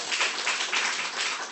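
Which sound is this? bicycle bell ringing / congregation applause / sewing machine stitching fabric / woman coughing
congregation applause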